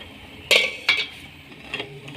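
A lid goes onto a cooking pot of vermicelli with two quick metallic clanks close together, followed by a softer rattle as it settles, in an otherwise quiet kitchen.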